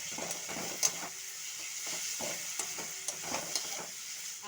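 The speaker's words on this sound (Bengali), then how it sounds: "আদাটা একটু ভেজে নেব।" Ginger paste sizzling in hot oil in a pan, a continuous hissy fry broken by occasional scrapes and stirs of a spoon, close and fairly loud with no talking.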